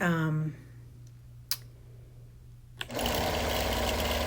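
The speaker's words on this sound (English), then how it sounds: "I'm doing some ditch quilting between the wool fabric and the cotton fabric" A sewing machine stitching in the ditch between wool and cotton fabric on a wall quilt runs in a rapid whirring burst, stops for a quiet stretch with a couple of sharp clicks, then starts up again loudly.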